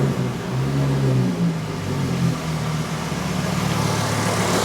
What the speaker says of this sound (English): Truck should fire up.